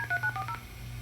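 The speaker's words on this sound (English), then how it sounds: "Why is there phone noises there?" A quick run of telephone dialing tones plays from a VHS tape in a DVD/VCR combo, giving several short, clear beeps in a rapid sequence over a steady low hum.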